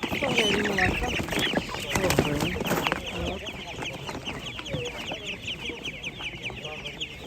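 Chickens and ducks for sale at the Kolomyia livestock market in Ukraine keep up a dense, continuous clucking and squawking close by, with people talking over the crowded poultry din.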